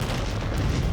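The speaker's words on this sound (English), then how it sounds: "Explosions." A big explosion from a rocket-powered car roars in a dense, sustained blast of low rumbling boom that fills the whole second, loud and close with no pause.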